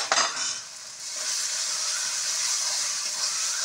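Spices with chilli and garlic sizzle and fry in a pan over a wood-fired stove, a steady bright hiss after a brief stir at the start, close and moderately loud with no talk.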